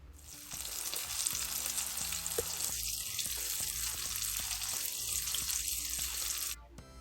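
Chicken sausages fry in a pot with a continuous close sizzle and crackle, overlaid by soft clinks and stirring or flipping sounds, with no speech.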